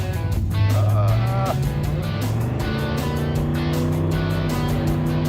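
A blown Ford Thunderbird engine drones steadily and loudly from inside the car on a winter road trip, its pitch dropping as the transmission shifts up into third gear.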